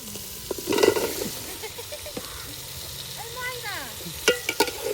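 Pieces of taro tumble into beef cooking in a pan, stirred through a lively close sizzle with scraping and knocking, while a voice briefly murmurs in the background.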